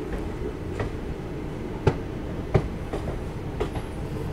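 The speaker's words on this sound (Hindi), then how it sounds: "ट्रेन अभी अपनी पहुंच रही है गढ़मुक्तेश्वर स्टेशन पर।" The Dehradun Mussoorie Express rolls into Garhmukteshwar station, heard from inside the train as a low steady rumble with a few soft wheel clunks and rail clicks, moderately quiet.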